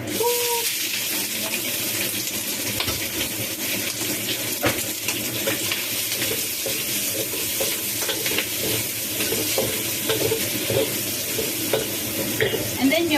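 Dry scallop stir-fries in a pan with a continuous close sizzle and frequent scraping, clattering stirs throughout, with no clear speech.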